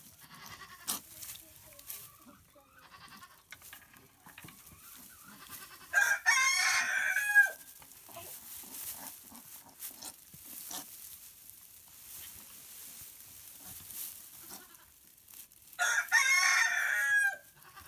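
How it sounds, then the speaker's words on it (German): A rooster crows twice, loud and drawn out, with a long gap between crows and quiet farmyard background in between, near goats giving birth. "Der Hahn ruft's."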